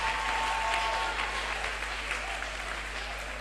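A church congregation at a sermon claps in a dense, steady burst that holds evenly and fades slightly toward the end, heard from some distance with faint voices mixed in.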